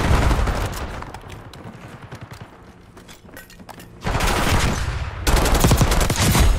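Dense, loud automatic gunfire from a firefight in Call of Duty Black Ops 6 rattles almost continuously, easing off in the middle before surging back in two heavy bursts, with no talk over it.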